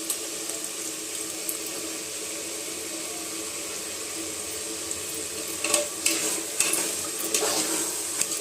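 Curd is poured into a spicy brinjal curry frying in oil, giving a steady watery sizzle with a few louder splashy stirring bursts toward the end, no voices.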